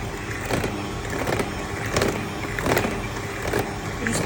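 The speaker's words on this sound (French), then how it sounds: "je vais fouetter tout doucement. Deuxième vitesse maintenant." An electric mixer whisks eggs at second speed for a caramelized pineapple upside-down cake, a steady close motor whir with rhythmic swells as the beaters move through the bowl, heard alone.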